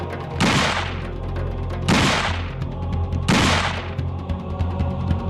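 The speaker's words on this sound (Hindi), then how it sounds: "अचानक पिस्तौल का घोड़ा दबा दिया" Three loud pistol gunshots, evenly spaced about a second and a half apart, each with a booming echoing tail over a low steady drone.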